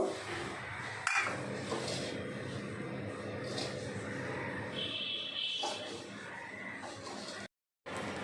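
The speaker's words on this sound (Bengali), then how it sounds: "দিয়ে দেওয়ার পরে সব আবার ভালো করে সুন্দর করে মিলিয়ে নিব।" Fried rice with cashews and raisins being mixed in a pan, giving a steady scraping and clinking of a utensil against metal, moderately loud and continuous, with a sharp knock near the start and a brief dropout near the end.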